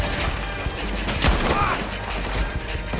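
Video game gunfire crackles in a dense, continuous volley, loud and close, with sharp shots blurring together over a busy battle din.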